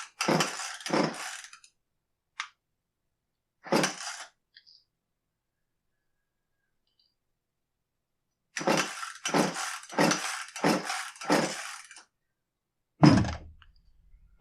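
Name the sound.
attempts to start an Echo CS271T chainsaw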